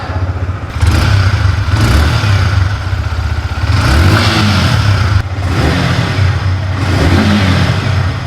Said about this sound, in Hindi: गाइस फाइनली बाइक को स्टार्ट करते हैं,